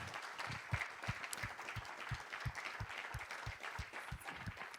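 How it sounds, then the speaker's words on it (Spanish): Church congregation clapping during a Spanish-language sermon, a faint, fairly regular run of claps lasting a few seconds. "Denle un aplauso al Señor si lo cree."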